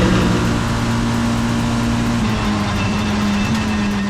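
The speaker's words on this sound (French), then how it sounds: "Et là le moteur est vraiment maximum et ça c'est super excitant aussi comme bruit et comme sensation." A Mitjet race car engine screams near maximum revs on the Barcelona circuit, a loud, sustained, steady drone with a constant pitch filling the whole stretch.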